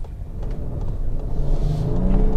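A Lincoln Aviator PHEV plug-in hybrid with 500 system horsepower accelerates hard, its engine rising in a steady, building road rumble and whir that grows louder over a couple of seconds.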